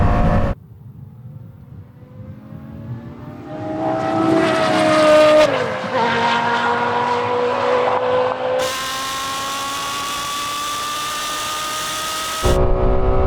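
Porsche Carrera GT and Lexus LFA, both V10 supercars, roar through a drag race, engine notes rising sharply through the gears with a brief dip at a gear change, loud and close, then a sustained high whine before cutting off.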